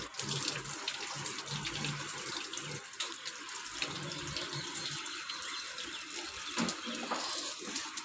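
A steady, broad rush of water from a hose spraying dust and dirt out of an air conditioner compressor, continuous and fairly even with slight splashing variations, close by and without speech.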